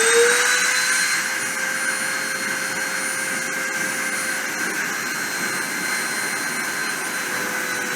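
A spindle motor spins up to 30,000 RPM, rising quickly within the first second into a steady, piercing high-pitched whine with bright overtones that holds loud and unbroken to the end, with no talking.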